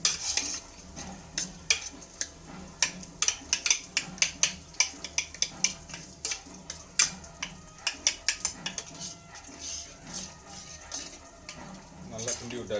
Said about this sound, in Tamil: ஒரு கரண்டி எடுத்து நம்ம என்ன செய்ய போகிறோம்னா நல்லா கிண்டி விட போகிறோம்